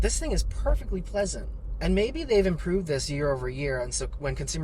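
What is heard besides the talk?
None of the usual background noises is heard.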